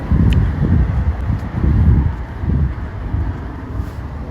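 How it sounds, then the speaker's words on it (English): A loud car driving away outdoors, heard as pulsing low rumbles that swell and fade over a few seconds amid wind noise. "And that loud car is driving out."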